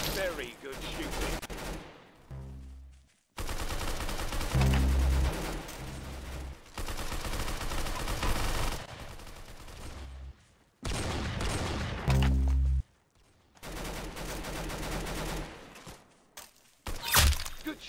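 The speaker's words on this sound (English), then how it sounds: "You've got his head. Nice headshot. Very good shooting." Rapid bursts of gunfire from the shooter game Arsenal crack and rattle in loud clusters separated by short silences, several automatic volleys and single heavy shots, with a player talking briefly between them.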